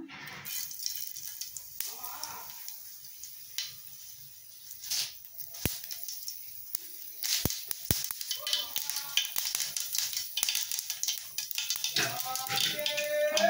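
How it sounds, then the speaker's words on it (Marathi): Mustard seeds hit hot oil and crackle in a dense steady sizzle with scattered sharp pops, growing busier toward the end, while a voice speaks faintly underneath. "चांगला तेल गरम झाल्यावर हा मोहरी घालायचा"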